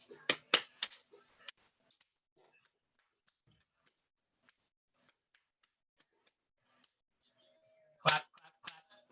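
Hands clap in a home music session: a quick burst of several sharp claps, then a long silence, then another short burst of claps near the end.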